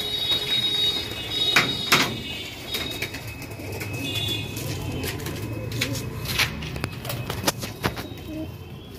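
Pigeons leave an opened loft gate at a pigeon farm in Nabadwip, with bursts of wing flaps and scattered coos over a steady outdoor murmur, close and moderately loud.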